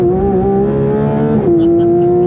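A Porsche GT3 RS engine roars loud and close from inside the car on the Nürburgring, exiting the Carousel. The pitch climbs steadily, then dips briefly with a gear change before holding high again.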